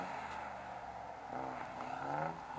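A stuck car and truck revving their engines at the top of a hill, with rising and falling engine whines over a steady, fairly faint background rumble.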